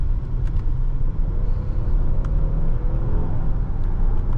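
A 2024 Hyundai Palisade Calligraphy accelerates smoothly, its steady low engine and road rumble heard from inside the cabin, even and unbroken with no talking.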